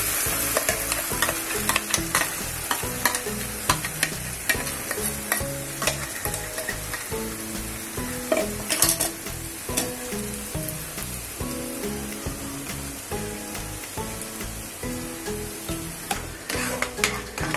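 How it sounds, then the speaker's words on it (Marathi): Spinach paste for palak paneer sizzles in a hot pan with onions while a spoon stirs it in repeated scraping strokes. A steady crackling hiss runs underneath the rhythmic stirring, and no one speaks. "हे जी पालक आपण पेस्ट केली होती ती आपण घालून घेऊया"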